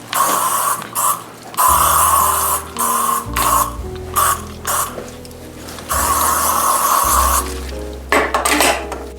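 Behold furniture polish sprayed onto a greasy comfort bike during a DIY conversion, heard as two long hissing aerosol bursts and a shorter one, close and loud over a steady low hum.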